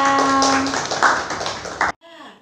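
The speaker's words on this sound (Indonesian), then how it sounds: "Tepuk tangan buat semuanya." Students applaud in a classroom, a burst of close, fairly loud clapping that lasts about two seconds and stops abruptly, with a steady tone and some voices mixed in beneath it.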